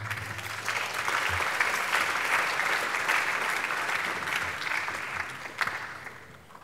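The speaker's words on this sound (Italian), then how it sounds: "tutto meritato questo applauso" Sustained audience applause at the Vexillum G. Sciacca international award ceremony in 2023, a steady wash of many clapping hands that holds evenly for several seconds and tapers slightly toward the end, with no talk over it.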